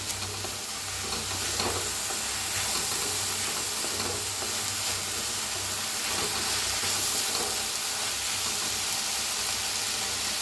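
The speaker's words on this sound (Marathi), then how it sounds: "टाकूया हळद, भाजून घेऊया।" Moth bean dal with onions and turmeric frying in a pan, giving a steady, close sizzle with occasional stirring scrapes throughout and no talking.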